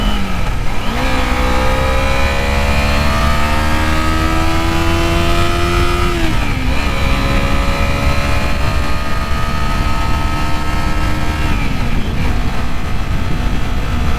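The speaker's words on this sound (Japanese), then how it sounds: "最高に気持ちいいエンジンの振動がすっごい。" Kawasaki Z250 motorcycle engine revved hard at high rpm while riding, a loud, continuous wailing tone that climbs through the gears, pitch rising steadily then dipping briefly at each shift before climbing again, with no voices.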